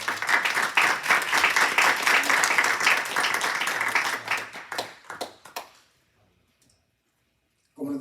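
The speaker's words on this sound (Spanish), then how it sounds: "démosle un aplauso al Señor" A church congregation claps steadily for several seconds, the applause thinning into scattered claps and fading to silence near the end.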